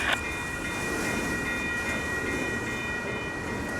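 Train rolling through the Fondren Road railroad crossing on the UP Glidden Subdivision in Houston, Texas, a steady broad rumble with a high ringing crossing bell tone running throughout, moderately loud and continuous.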